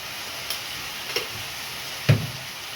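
Sliced papaya and spices being stir-fried in a pan, with a faint steady sizzle underneath and a few sharp spoon clicks against the pan, the loudest one near the end.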